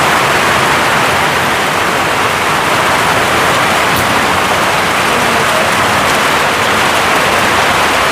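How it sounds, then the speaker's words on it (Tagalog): Heavy first rain of the season pours down steadily on a house under construction, a dense, unbroken hiss of water that stays loud and even throughout with no pauses. "Ay, umulan."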